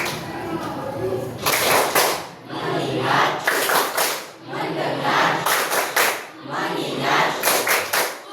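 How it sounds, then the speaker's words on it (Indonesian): Groups of quick hand claps in a repeated rhythmic pattern, with a chanted voice calling "focus" between the bursts, a classroom focus clap led by a teacher. "Tepuk fokus gitu ya."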